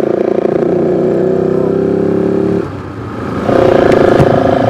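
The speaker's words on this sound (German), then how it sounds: "ich hoffe, der Motor ist nicht so laut" A vehicle engine drones steadily while driving through a mid-sized US city, holding a rumbling mid-pitched tone, briefly dropping and easing off, then returning louder as it picks up again.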